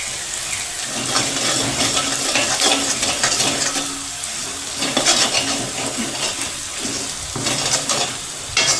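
Chillies frying in a pan over medium flame while being stirred and mixed, a dense sizzle broken by repeated scraping strokes of a spoon against the pan, close and fairly loud.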